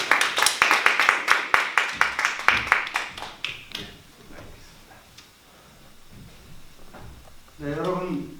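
A lecture audience at Kookmin University's graduate school of politics claps to welcome a speaker. A few seconds of crisp, rhythmic close claps fade out into room quiet, and then a voice begins speaking.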